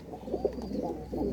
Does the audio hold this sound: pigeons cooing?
yes